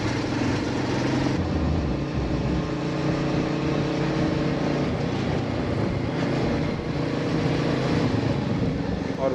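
A steady roar of engine and wind noise while a Royal Enfield motorcycle rides along a road near the Himachal Pradesh border at Parwanoo, heading toward Chail, continuous and unbroken.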